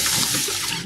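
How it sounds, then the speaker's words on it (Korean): Running water pours steadily as fresh green plums are rinsed by hand, a continuous close splashing hiss with no talk over it. "꼭지를 다 다듬은 매실은 깨끗이 씻어줘야 됩니다"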